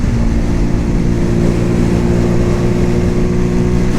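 A Cougar Vitacci XMT 250 motorcycle engine droning loud and steady while riding, with wind rush over the engine hum as the rider changes down gears.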